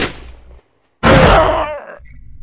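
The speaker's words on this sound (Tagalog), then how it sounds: "Nagsimula ang pagpapalitan ng putok." Gunfire in a Filipino-language audio drama: a sharp, loud burst after a brief silence, with an abrupt start and a crackling tail, and a murmuring voice before it and after it.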